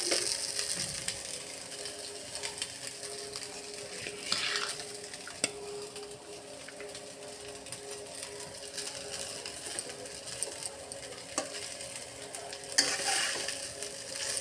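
Fried rice stirred in a pan, with scraping and clicking spatula strokes over a soft ongoing sizzle, fairly quiet and close with a few sharper knocks.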